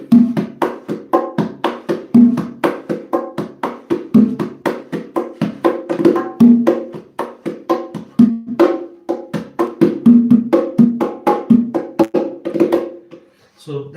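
Bongos played in a busy, alternating pattern of crisp slaps and deeper tones, close and lively, keeping an even groove throughout.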